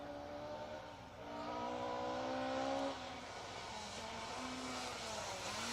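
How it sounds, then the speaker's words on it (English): An engine drones and swells as a rally car is hauled out of shrubbery during the 2023 Roger Albert Clark Rally, rising in pitch mid-clip and then settling over steady outdoor background noise. "watch a rally car being pulled out of the shrubbery"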